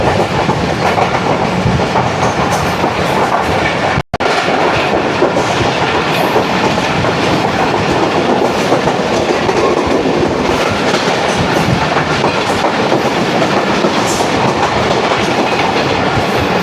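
The Shalimar Express runs steadily along the rails between Rohri and Lahore, with a loud, continuous roar and rhythmic clickety-clack of wheels heard up close. There is one brief dropout partway through.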